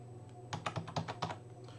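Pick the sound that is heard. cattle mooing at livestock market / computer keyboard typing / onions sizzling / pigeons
computer keyboard typing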